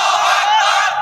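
A large crowd roars Allahu Akbar in unison in answer to a Takbir call at a Bangla religious gathering, a loud sustained collective shout filling the whole moment.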